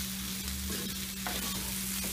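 Sliced potatoes sauté in a pan for a chicken in orange sauce dish, a steady close sizzle and crackle with occasional stirring scrapes, no voices.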